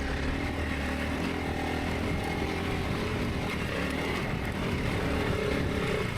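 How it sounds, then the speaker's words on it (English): An adventure motorcycle engine strains wide open in second gear up a steep hill, a loud, continuous, unbroken drone with no pauses or gear changes. "It's all the bike can do in second gear, wide open to pull them"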